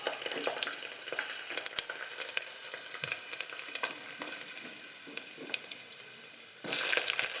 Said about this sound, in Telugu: తర్వాత 7-8 వెల్లుల్లి రెబ్బలను కూడా ఇందులోనే యాడ్ చేయండి.